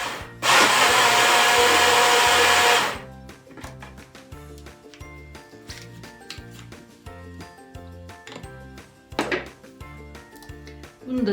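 A kitchen blender whirs loudly through baghrir batter, a Moroccan semolina pancake mix, for a few seconds, then stops, leaving music playing alone afterward.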